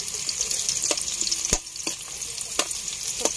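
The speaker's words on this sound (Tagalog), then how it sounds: "Gisa-gisahin na natin ang panakot." Garlic and onions sizzle in a hot pan while being stirred, a steady close crackle broken by scraping knocks of the utensil against the pan, with no talking.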